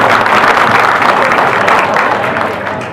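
A crowd at a political party cultural event in Wadala, Mumbai claps loudly for the performing artists, a thick, steady wash of applause that tapers slightly at the end.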